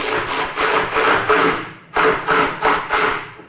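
7/16 bolts on a Harley-Davidson Road Glide inner fairing are tightened with a ratchet. Close, rhythmic rasping strokes come in two quick runs of about four each, separated by a brief pause.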